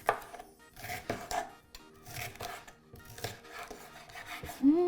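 A knife chops through half a red onion on a cutting board in a home kitchen, giving a steady series of close, crisp cuts with short pauses between strokes, no talking over it.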